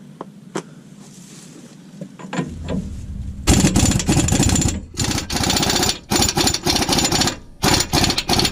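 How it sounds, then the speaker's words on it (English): An impact gun hammers on the 36 mm front axle nut of a 2009–2012 Ram 1500. Loud, close bursts of rattling come in short jogs separated by brief gaps, after a quieter stretch at the start. "I kept jogging the gun, and as you keep jogging it, it really kind of hammers on it"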